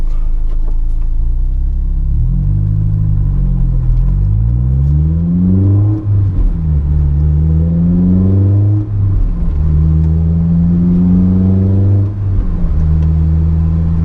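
A Honda S2000 engine revved repeatedly from idle to high RPM, near 9000, loud and close, with sweeping rises and drops in pitch in several pulls and no talk over it.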